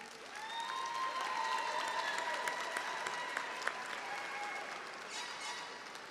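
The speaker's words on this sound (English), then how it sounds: "the chancellor suggested you should clap for yourselves" Graduates clap for themselves at a university spring commencement, a fairly faint, steady crowd applause with a few whistles and cheers mixed in over the distance.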